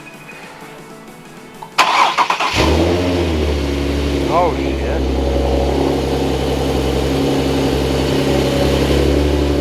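An Infiniti G37 sedan fitted with ported upper and lower intake manifolds cranks and fires up, a short starter whir followed by the engine catching with a loud roar, then settling into a steady, rumbling idle; a brief exclamation is heard around the start.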